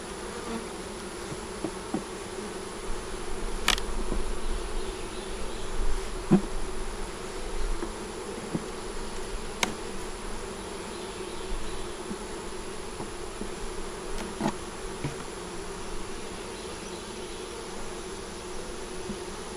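Honey bees buzz steadily around an opened beehive during an inspection, a dense continuous hum close by with occasional faint clicks and knocks and no talking.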